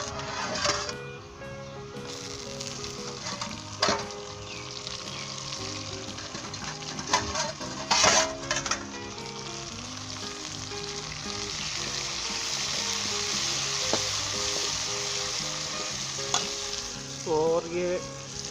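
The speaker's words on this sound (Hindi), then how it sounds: "तो अब इसके अंदर टमाटर डाल दें।" Tomatoes go into a pan of frying ginger, garlic and onion for a chicken curry, setting off a continuous crackling sizzle with occasional clanks and stirring scrapes over about eighteen seconds, no talk.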